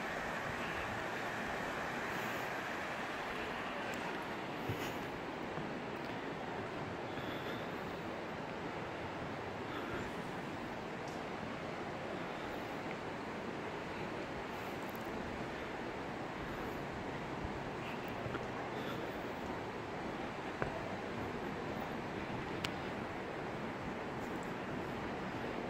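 Broadband rushing of Butte Creek flowing near a covered bridge, a steady close wash of moving water that holds even and unbroken throughout with no voices.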